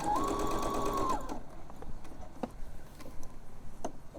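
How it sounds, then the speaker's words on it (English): A sewing machine stitches along the fabric edge of a tote bag in one steady whirring run of about a second, then stops, leaving faint ticks and fabric handling. "I'm just going to stitch along this edge"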